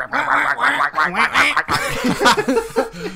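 Several people do loud, nasal duck-quack imitations in quick, overlapping bursts, broken up by snickering laughter and chuckles.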